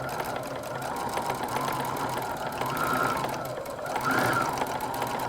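Sewing machine stitching and back stitching a tote bag corner, a steady close motor buzz that swells slightly as the stitching direction changes.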